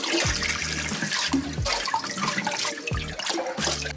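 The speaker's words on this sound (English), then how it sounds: "Now we're gonna give this a rinse." Water runs and splashes over micro shrimp bait being rinsed, a steady broadband gush with brief surging bursts and a few low clunks, close and fairly loud, with no talking.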